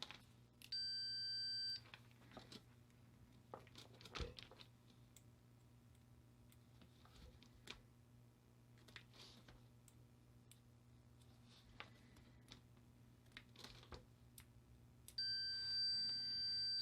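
A multimeter set to continuity gives two sustained high beeps at the start and end, with a steady electrical hum and scattered clicks from handling probes on a vehicle loop detector test rig's connectors in between.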